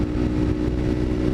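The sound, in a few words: Kawasaki Ninja 300 motorcycle with M4 exhaust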